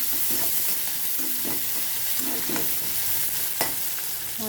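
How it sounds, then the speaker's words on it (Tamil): Onions being sautéed with chana dal for semiya upma, a steady sizzle from the pan broken by repeated scraping and stirring taps, with no talking. "வெங்காயம் சேர்த்து நல்லா வதக்க விடணும்"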